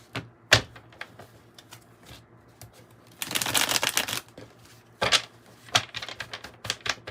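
A 108-card oracle deck is shuffled by hand close up, with crisp card flicks and taps that build into a dense riffling burst midway, then break into scattered snaps. No one talks.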